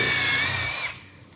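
A power drill fitted with a countersink bit pre-drills holes in wood during furniture pre-assembly, giving a loud, steady whining buzz for about a second before it winds down and fades.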